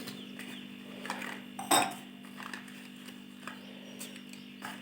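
A small packet of Fem golden bleach being opened by hand, heard as sparse soft crinkles and clicks with one sharp rustling tear in the middle, close and quiet against a low steady hum.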